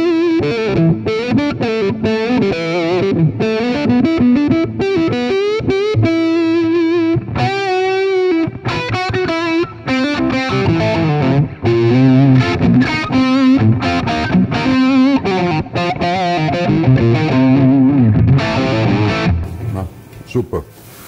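Electric guitar fitted with Q Pickups late-50s PAF humbuckers, tone control rolled down, plays a sustained run of melodic lines and held notes at steady loudness, softly overdriven with a chorus-like shimmer.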